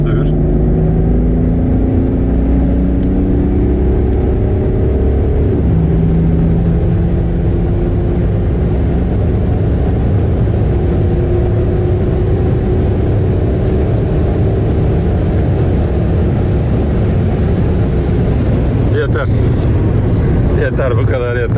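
A modified BMW 535d twin-turbo diesel accelerates hard in fourth gear from about 100 km/h, its engine droning loud and steady from inside the cabin, rising in pitch over a long pull with wind roar.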